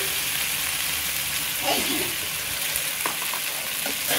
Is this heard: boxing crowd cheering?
no